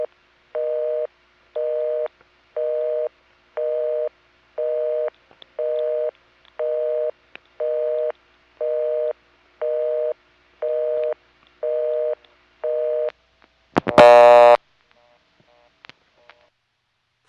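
A 1978 Siemens motor switch telephone exchange in Florida plays a trunk signal tone: twelve evenly spaced, identical tone bursts about one second apart, followed by a short loud burst of noise and then silence.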